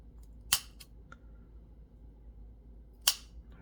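Kitchen scissors snipping through seasoned spinach, two sharp, distinct cuts about two and a half seconds apart, with a few faint clicks between, close and otherwise quiet.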